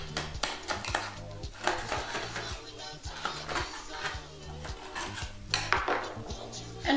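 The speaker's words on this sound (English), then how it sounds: "Loosen the bread now with a flat knife." Flat knife scrapes and clinks against a metal baking pan while loosening baked Okatare bread, in a close series of rough rubbing strokes and sharp taps.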